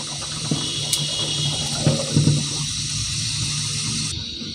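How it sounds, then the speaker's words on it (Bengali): Cut pieces of satkora citrus being rinsed under running water, a steady hiss of flowing water with a few soft knocks and splashes as the pieces are handled, no talking. "এখন আমি এই সাতকরাগুলো ধুয়ে নিচ্ছি।"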